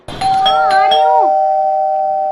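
A doorbell chimes close and loud in a home: a quick cluster of tones, then one long sustained ding-dong note that rings out for about two seconds.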